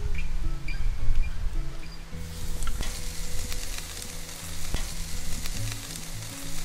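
A porterhouse steak hits a charcoal grill, and a crackling, broadband sizzle swells up close after a quieter opening with faint knocks, then holds steady to the end.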